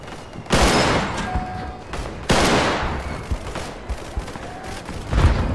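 Gunfire from the Roblox war game Centaura: loud, close bursts of shots with sharp broadband cracks near the start and middle, then scattered shots and another burst at the end, with no talking.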